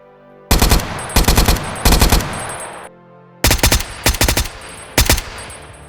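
Suppressed firearm from a Minecraft Bedrock gun mod firing in short automatic bursts, three quick rapid volleys, a pause, then three more, loud and close with a crisp electronic mechanical edge.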